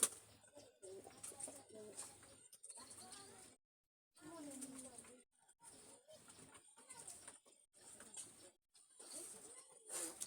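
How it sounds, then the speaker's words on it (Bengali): Imported teddy pigeons coo softly while feeding a chick, in low, throaty bursts broken by short pauses and one brief silence, with light rustling and scratching close by. "টেডি ইম্পোর্ট করা কবুতর দেখেন"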